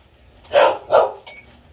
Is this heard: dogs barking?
yes